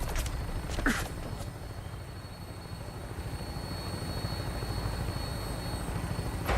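A Vertibird aircraft taking off in Fallout 4, with a steady low rotor and engine drone holding loud and close, unchanging from start to finish, with no talk over it.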